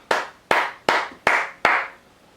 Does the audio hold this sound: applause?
yes